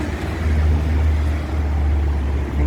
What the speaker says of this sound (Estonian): Bussid sõidavad mäkke